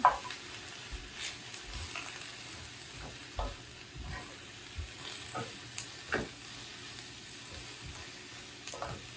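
Sliced onions sizzle quietly in a frying pan while a utensil stirs them, giving soft scraping strokes and clicks over a low, steady hiss, with no talking.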